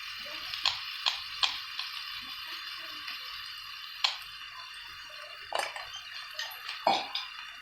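Hot water is poured into a cooking pot for boiling pasta: a steady hiss of running water with scattered sharp clinks and drips of metal cookware, close by and fairly quiet.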